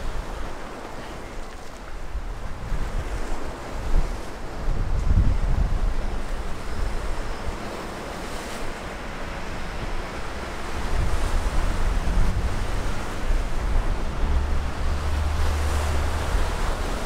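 Waves wash onto a beach at Agios Nikolaos, Crete, in a steady surging roar with swells rising and falling, mixed with gusts of wind buffeting the microphone; no voices.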